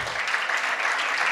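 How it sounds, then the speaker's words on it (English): Dense, steady applause from a convention audience at a 2018 state LULAC gathering, a continuous wash of many hands clapping with no break. "So let's give him a big round of applause"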